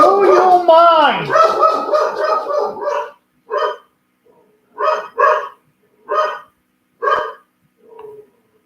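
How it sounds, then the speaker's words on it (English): A dog barks repeatedly at someone walking another dog past the house, starting with a burst of rapid, loud, close barks, then slowing to spaced single woofs with pauses between. "Dog is letting me know that somebody walked their dog by the house"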